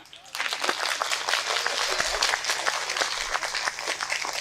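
An audience applauding at a Hindi comic poetry show: dense, steady clapping from a large crowd that begins abruptly and holds at full strength throughout.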